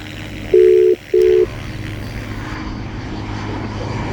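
A WhatsApp call rings out as two steady electronic tones, each about half a second long with a short pause between, loud and close over a low background hum.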